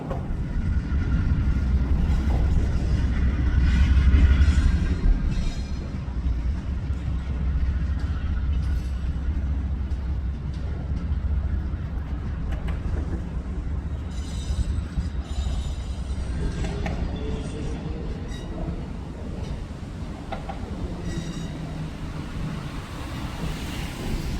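The Crescent train rolls past a railfan trackside spot near Birmingham, a steady, loud rumble of wheels and cars that swells early and then holds, with wind buffeting throughout.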